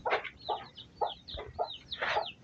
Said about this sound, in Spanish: eso es un cruce de gallina fina con el gallo catire